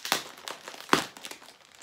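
A plastic bag holding a thrifted blue yarn skein crinkles and rustles as it is torn open by hand, with two sharper rips among the close, continuous crackling.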